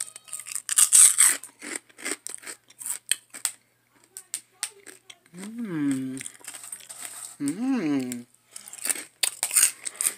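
Crisp crunching bites into hot, freshly cooked pork cracklings, several sharp close-up snaps in quick bursts, with someone speaking between bites.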